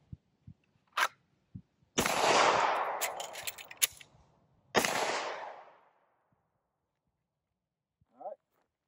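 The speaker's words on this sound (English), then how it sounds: "some more shooting and mag change here" A handgun fires sharp, loud shots at close range, several spaced cracks followed by ringing reverberation, with small metallic clicks between them as a magazine is swapped while shooting from a light-bearing holster.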